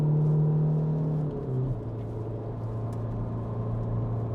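A car on a race track slows down in third gear, its engine drone stepping down in pitch as it decelerates, a steady low hum heard from inside the cabin at moderate level.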